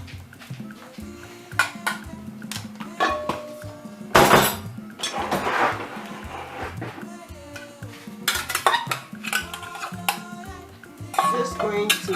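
Vegetables being dished into a halogen tabletop oven, with scattered metallic clinks and scrapes of utensils against pans, a sharp clatter in the middle and lighter tapping and clinking afterward, close and fairly quiet.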